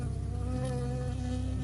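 A bee buzzes steadily and close in the woodland game Firewatch, a continuous droning hum that holds at an even level throughout.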